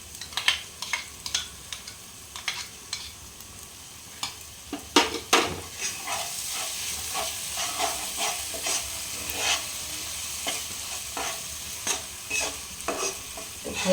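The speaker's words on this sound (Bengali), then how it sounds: "ভালোভাবে কষতে হবে মশলাটা" Spices for chana masala with kabuli chickpeas, Kashmiri chili powder and yogurt being stirred and fried in a pan: steady sizzle and hiss with repeated scraping strokes of a spoon, fairly close, with no talking.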